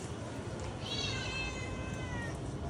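A cat gives one drawn-out meow outdoors while being fed on the street, moderately close over a steady background hiss.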